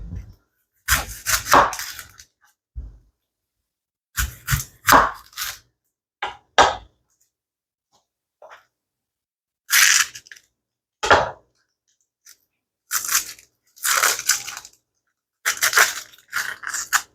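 An onion being chopped with a knife for potatoes with Mexican chorizo: irregular clusters of crisp, close knife strikes on a cutting board, separated by short silences.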